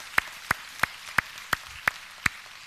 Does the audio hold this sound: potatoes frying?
no